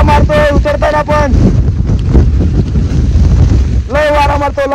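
Heavy wind on Girnar mountain in Gujarat rushes and rumbles loudly against the microphone, with a person's voice breaking through at the beginning and again near the end.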